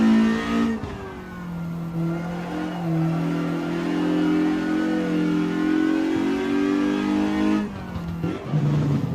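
Jide 1600 S race car in Assetto Corsa holding a steady, loud engine drone through a left-hand corner at Ahvenisto on a flying lap, dipping briefly near the end before climbing again.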